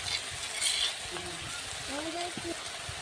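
A pumpkin stem, potato and eggplant dal sizzles and fries in a pan while a utensil stirs and scrapes through it in short strokes, up close, with faint background voice.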